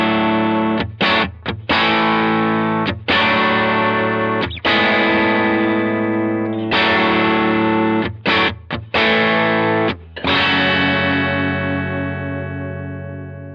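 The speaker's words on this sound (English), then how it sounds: "It's a really versatile combination and is great for overdrive tones" Electric guitar overdrive through a Strymon Iridium amp modeler on its round amp model: loud, sustained distorted chords and riffs played alone, with several short pauses between phrases and a long ringing final chord fading out.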